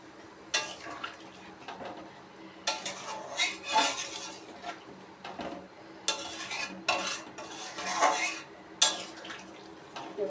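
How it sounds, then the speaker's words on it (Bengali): Hot water poured into a pan of cooking pointed gourd curry, with metal ladle clinks and scraping stirs over a low bubbling simmer, close and moderately loud, no talking. "এবার আমি জলটা দিয়ে দেবো।"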